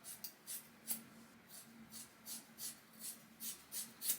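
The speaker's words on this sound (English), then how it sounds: "I'm gonna take these slightly curved scissors because I feel like they help" Slightly curved scissors cutting hair, making a steady series of soft, crisp snips at a regular pace, close and quiet.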